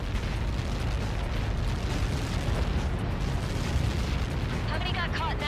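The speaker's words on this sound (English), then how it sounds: "How many got caught in that explosion?" A massive explosion in the combat flight game Ace Combat 7 roars as a dense, sustained rumbling blast, loud and steady throughout, with radio chatter cutting in near the end.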